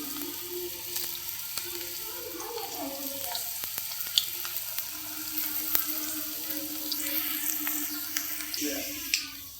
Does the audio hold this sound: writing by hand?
no